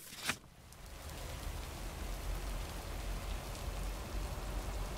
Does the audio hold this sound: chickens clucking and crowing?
no